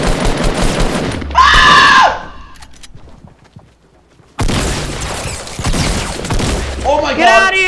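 Rapid gunfire in the Fortnite video game, loud bursts of shots in two clusters separated by a near-silent pause, with players talking over the action.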